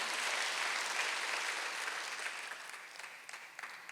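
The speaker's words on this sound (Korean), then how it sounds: "빨리 박수하세요." A church congregation at a Sunday worship service breaks into dense, steady applause that fills the room, then thins out and fades toward a few lingering claps.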